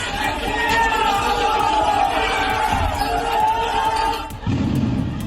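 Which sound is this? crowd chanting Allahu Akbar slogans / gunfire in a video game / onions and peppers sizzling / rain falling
crowd chanting Allahu Akbar slogans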